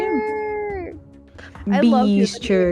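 A cat meows loudly up close, its drawn-out cries rising and falling at the start, then a quieter pause before people talk over more sound.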